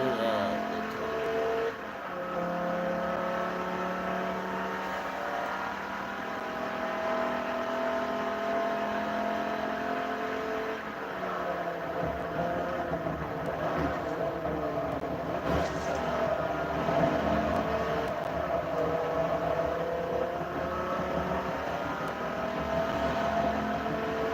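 Race cars in Forza Motorsport 3 droning through a lap at Sebring, engine tones rising and falling steadily with shifting pitch and a shift in tone midway, moderately loud and continuous without talk.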